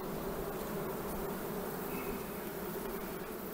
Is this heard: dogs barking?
no